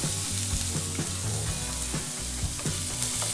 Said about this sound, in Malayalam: ഇതൊക്കെ ഒന്ന് വഴന്നു വരണം. ഈ സവാളയൊക്കെ വഴന്നു വന്നിട്ടുണ്ട്.